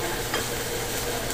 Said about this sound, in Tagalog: Haluin ko muna